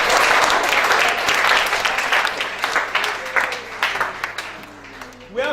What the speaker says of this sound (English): Please, can you clap all of them?